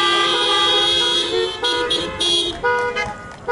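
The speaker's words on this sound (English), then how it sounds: "Honk if you can hear me." Several car horns honk together in a church parking lot during an outdoor Pentecost service, loud sustained overlapping blasts that stop and restart in short bursts, with no talk over them.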